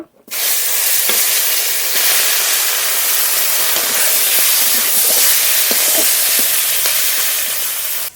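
Fish fries in hot oil with a loud, continuous hissing sizzle that holds steady from start to finish, broken by small pops and crackles.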